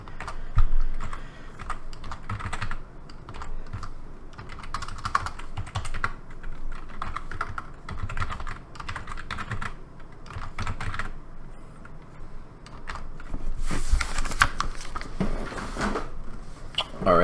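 Typing on a computer keyboard, continuous close clicking of keys in uneven bursts across the whole span, with some louder clacks near the end and no talking.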